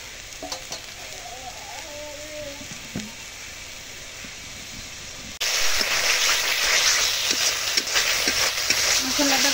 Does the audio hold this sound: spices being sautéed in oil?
yes